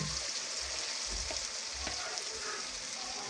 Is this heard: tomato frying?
yes